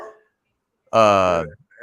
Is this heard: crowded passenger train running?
no